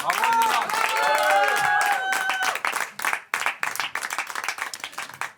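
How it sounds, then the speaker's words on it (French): A comedy festival audience applauds a stand-up comedian, dense clapping filling the room at first, then thinning into scattered, uneven claps, with a voice briefly speaking over the start. "Nina Azoulay, on l'applaudit bien fort."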